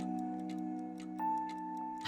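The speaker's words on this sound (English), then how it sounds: "If you listen, you can hear the sounds of cogs and springs coming from it too." Ticking cogs and springs from a door in the video game Trails of Cold Steel, a steady mechanical tick over a sustained tonal background with a brighter tone entering midway.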